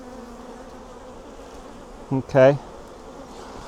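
A swarm of honeybees pours out of an overheated wooden hive box without a ventilated floor, a low continuous hum beneath a brief spoken word.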